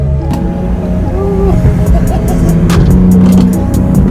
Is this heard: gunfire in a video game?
no